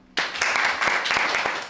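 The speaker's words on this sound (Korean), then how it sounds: "여러분 뜨거운 박수로 맞아주시기 바랍니다" Audience applause greeting a speaker at a lecture, erupting suddenly from near silence into steady loud clapping from a crowd.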